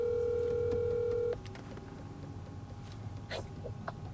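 A single sustained telephone tone sounds for about a second, then stops, leaving quiet room noise with a few faint clicks and taps, heard alone with no talking.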